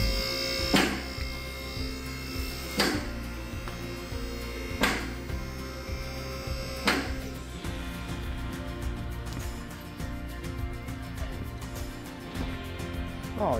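V8 engine of an LS-swapped 1972 Monte Carlo idling rough and untuned: a steady, buzzing low rumble with periodic louder surges about every two seconds, then a tighter, faster rhythmic pulse, continuous and fairly close.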